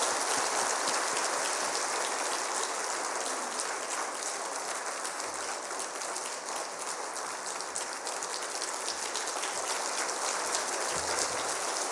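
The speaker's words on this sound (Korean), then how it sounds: "우리 나오실 때 뜨거운 박수로" Congregation applauding a guest speaker at a Wednesday church service, a dense, sustained wash of clapping from many hands that holds steady and loud throughout, with no voices over it.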